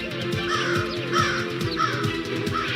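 A crow cawing loudly and close, a rapid series of harsh repeated caws in quick rhythm with no other voices.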